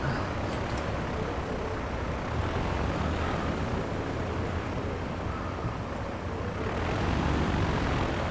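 Aircraft engine noise at a busy airport in the video game Transport Fever 2, a steady broadband roar that holds at an even level throughout and swells slightly near the end as a plane passes.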